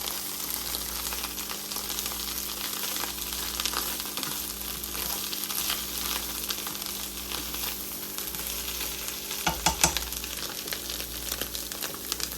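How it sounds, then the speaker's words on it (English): Broccoli mac and cheese stir-fried in butter in a pan, a steady close sizzle with scraping stir strokes throughout and a few sharper clinks near the end, no talking. "it tastes a lot better if you stir fry it in butter"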